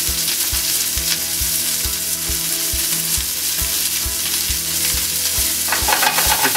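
Omelette of three eggs frying in an oiled pan, with a loud continuous sizzle running throughout and a regular ticking beat underneath, heard close and steady with no voices.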